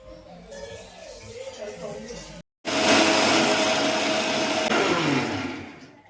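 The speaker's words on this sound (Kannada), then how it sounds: "ಸ್ವಲ್ಪ ಗಟ್ಟಿಯಾಗಿ ಮಿಕ್ಸರಲ್ಲಿ ಗ್ರೈಂಡ್ ಮಾಡಿ" A mixer grinder grinds masala, whirring loudly and steadily after a short pause, its motor roaring for several seconds before easing off.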